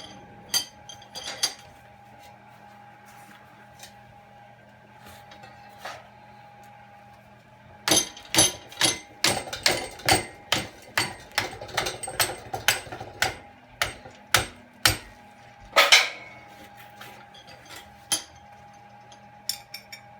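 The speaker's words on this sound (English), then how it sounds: "we're going to clamp them in the vise right up to the very base of the spoon" Large metal spoons clamped in a vise and bent for scrap-metal sculpture legs, producing a rapid burst of sharp metallic clanks and taps, close and loud, after quieter sparse clinks and a steady hum.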